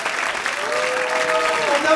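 Lively audience applause at a live comedy show taped in front of the public, clapping throughout with a voice speaking over it.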